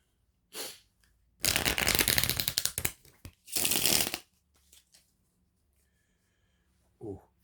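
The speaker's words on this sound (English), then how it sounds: "let me give this a proper shuffle." Tarot cards are shuffled by hand in three bursts of dense riffling, the middle one longest, close to the microphone with quiet gaps between and a faint knock near the end.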